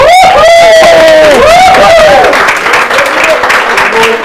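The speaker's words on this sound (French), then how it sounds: "je vous demande de faire une ovation à Roméo Cournal" A loud audience ovation of dense applause and cheering breaks out in a hall, welcoming a performer to the stage, while a voice calls out over the crowd at the start.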